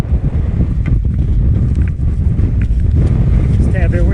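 Strong gusty wind buffets the microphone high on a Utah ski mountain as a storm front moves in, a loud continuous roar that fills the clip.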